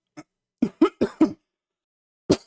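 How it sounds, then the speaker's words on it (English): A short cough followed by a rapid string of four harsh coughs, then one more cough after a pause, loud and close to the microphone. "Apologize for coughing into the mic."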